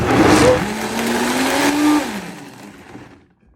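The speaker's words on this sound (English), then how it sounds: "I put this in the Vitamix because I really want to get it all blended, very nice, puree, smooth" A Vitamix blender purees birria sauce with a loud, whining motor that holds a steady pitch, then winds down and fades to silence as it shuts off.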